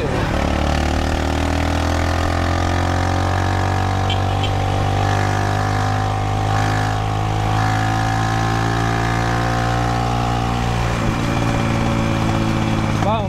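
A twelve-year-old Kawasaki Barako motorcycle engine runs steadily and loudly up close, with a constant throbbing drone that holds throughout before the tone shifts near the end.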